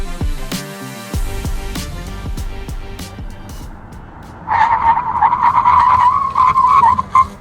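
Maruti Suzuki e-Vitara braking hard from 80 km/h to a standstill, with a long tire squeal that rises into a loud, steady screech over road noise and rumble, close by.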